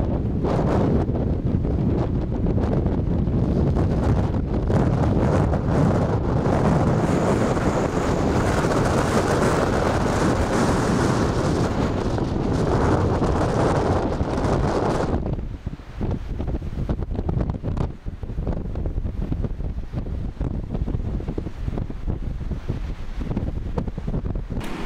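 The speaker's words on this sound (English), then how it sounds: "it's a very strong westerly wind" A strong westerly wind blows across Lake Victoria on a sunny morning, roaring and buffeting the microphone in heavy continuous gusts that ease somewhat midway but keep rushing to the end.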